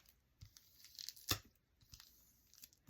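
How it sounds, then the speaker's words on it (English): Craft tape smoothed by hand onto a gel printing plate, a soft rubbing and crinkling with one sharp papery tear-like burst in the middle and quieter rustles around it. "So I'm just going to smooth the tape on"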